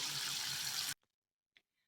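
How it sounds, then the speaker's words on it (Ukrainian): Water pours into a glass holding tomato seeds in a steady close splashing stream for about a second, then stops abruptly, followed by a couple of faint drips. "Заливаємо водою до півстакана"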